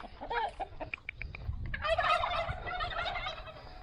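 Turkeys gobble in repeated rattling calls with chickens clucking around them at a farmyard after a big storm in northern Thailand, moderately near and fairly quiet, with a steady low rumble of background noise beneath.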